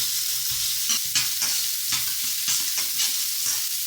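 Mixed vegetables, including capsicum with frozen garlic and ginger powder, fry and sizzle in a large kadhai with steady stirring scrapes, loud and close, without talk.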